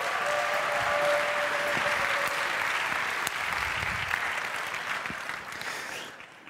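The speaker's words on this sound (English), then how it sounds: "Give him a big round of applause." Steady applause from a sizable crowd, sustained clapping that holds for several seconds before tapering off near the end.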